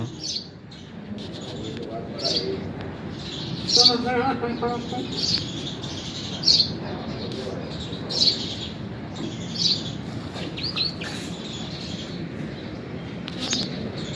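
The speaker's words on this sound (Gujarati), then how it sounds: "બધી જગ્યાએ બેઠી ચકલી" House sparrows chirp repeatedly, bright short calls in scattered bursts from several birds nearby, with some quieter background chatter and rustling between them.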